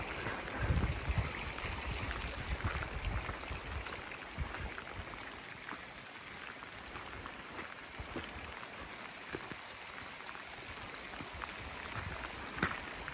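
Stream water flowing across an off-grid homestead in northern Arizona, a soft, steady, fairly distant rush with light trickles and scattered splashes, no talking.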